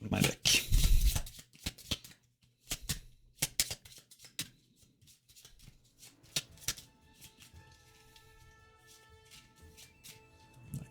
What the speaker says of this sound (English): I have to take an agent card and shuffle my deck